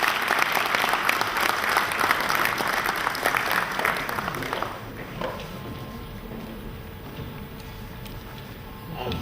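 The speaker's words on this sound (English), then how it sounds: "Please, a robust applause as we receive." Audience applause at a Nigerian banking and finance conference, a dense crowd clapping loudly for about five seconds before thinning into scattered claps and room murmur.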